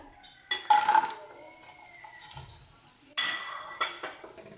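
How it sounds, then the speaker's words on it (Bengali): Lentil dumplings (bori) go into hot oil in a pan with a sudden close sizzle, followed by scattered clinks and spatula scrapes and a second burst of frying, with no talking. "দিয়ে দিচ্ছি বড়িগুলো"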